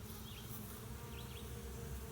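Honeybees buzzing at a beehive during a hive check, a faint continuous hum with a few closer individual bees flying past briefly.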